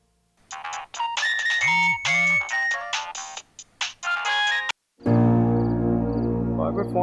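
A mobile phone ringtone plays a bright electronic melody in repeated phrases before cutting off abruptly, followed by a burst of louder background sound in a drama scene.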